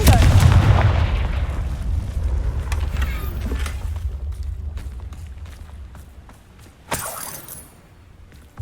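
A fire-blast explosion spell in a fantasy video game goes off with a loud, deep booming blast that rolls and decays over several seconds, followed by scattered crackling debris and a sharp second impact.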